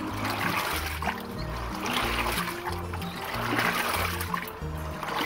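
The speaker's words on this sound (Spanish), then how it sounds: "Una manera fácil y rápida de lavar maíz." Water sloshes and splashes steadily as corn kernels are washed by hand, a close, continuous wet churning with no talk.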